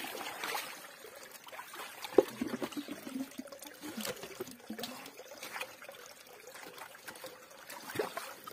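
Water trickles and dribbles steadily through a pond's drain outlet pipe, a continuous close-up flow with small splashes and gurgles, no voices heard.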